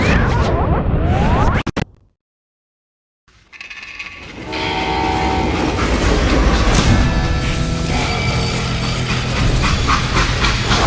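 A loud, rumbling freight train in the video game Call of Juarez: Gunslinger, with clattering wheels, a sudden cut to near silence, then the train's roar and rattle returning, steady and close.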